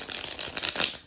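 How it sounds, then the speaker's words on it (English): Slick tarot cards from an Art Nouveau deck being bridge shuffled, a close, soft riffling flutter of cards rattling together for about a second with no talk. "I can still get my hands around to do the bridge shuffle"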